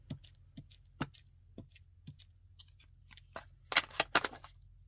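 Scissors cutting a paper leaf shape for a junk journal, a close series of crisp, evenly spaced snips that turn into quicker, louder rustling cuts near the end, over a low steady hum.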